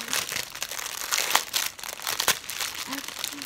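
Plastic sachets of DMC embroidery thread are opened by hand, producing close, continuous crinkling and rustling with sharper crackles scattered throughout and no speech.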